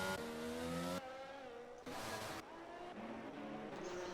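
A race car at the Monaco street circuit, with loud sustained engine tones that shift and rev across the passage, switching abruptly between on-board and trackside engine sounds, with faint commentary-like voices in the background.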